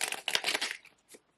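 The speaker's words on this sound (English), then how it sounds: "a little shuffle here." Someone gives a tarot deck a quick shuffle. Two short bursts of papery riffling sit close and fairly quiet, followed by a few soft taps.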